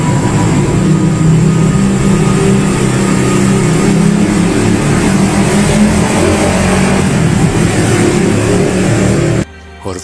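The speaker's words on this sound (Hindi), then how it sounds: "खिड़की के अंदर से बहुत तेज ट्रैफिक की आवाजें भी इसको सुनाई पड़ती" Loud traffic noise heard through a window, a steady dense rumble of car engines with revving passes, continuous until it cuts off abruptly near the end.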